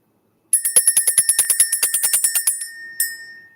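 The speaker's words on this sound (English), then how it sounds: "But let's ring the bell." A bell rung by hand in a quick burst of about fifteen bright, rapid strikes, then one more ring after a short pause, close and clear with no talking.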